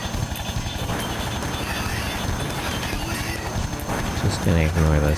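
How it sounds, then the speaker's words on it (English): Helicopters whir in the mecha combat game GunGriffon 2 beneath a dense, loud mix of game sounds, with a voice talking over it. "Just gonna ignore those helicopters"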